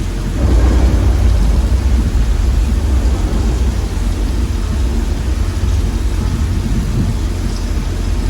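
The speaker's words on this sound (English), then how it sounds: "This rain is the result of some sprinklers strategically placed at high points." Steady, dense artificial rain from high-mounted sprinklers on a studio backlot pours down without pause, a broad continuous hiss with a low rumbling undertone and no voices.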